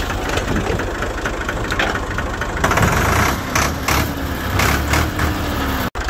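A tractor engine idles steadily, a loud, continuous low diesel rumble with a brief dip near the end, close by outdoors.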